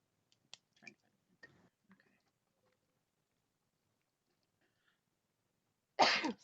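A single sharp sneeze bursts out loudly near the end, after a quiet stretch of faint clicks and small throat noises.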